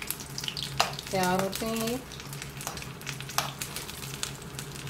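Chicken and vegetable spring rolls deep-fry in hot oil with a steady, crackling sizzle that runs throughout, while a person speaks briefly over it.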